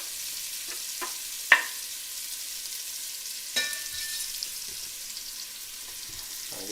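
Chopped onion drops into hot bacon grease in a pan, giving a low, steady frying hiss broken by a few brief sharp crackles and a scrape or two of a utensil, heard close and fairly quiet.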